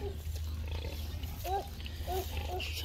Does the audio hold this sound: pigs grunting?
yes